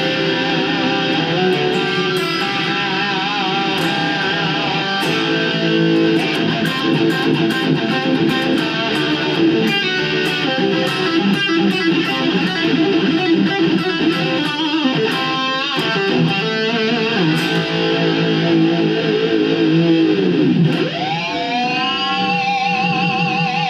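Electric guitar with distortion playing a dense, sustained run of chords and notes for over twenty seconds, loud and continuous, ending on a ringing bend, with no talk.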